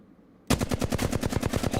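Rapid automatic rifle fire from a Flatline in the video game Apex Legends, a loud, steady burst of evenly spaced shots that starts abruptly after a short quiet moment and continues to the end.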